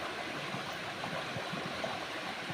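Strong water rushes and gurgles in a dense, steady wash of noise, close and continuous without pauses or voices.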